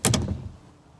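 The extra rear storage door of an old green car swings open with a short, sharp clunk and rattle followed by a fading rustle, close and brief.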